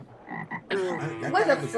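Deep, rasping frog croaks sound within a song, first as a couple of short calls and then as a louder sustained croaking layered over the music.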